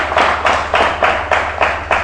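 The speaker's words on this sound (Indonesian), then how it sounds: "Oke, kita beri tepuk tangan." Applause from an audience at a public speaking training session in a village, heard as a steady rhythmic burst of clapping, close and fairly loud, pulsing about every quarter second.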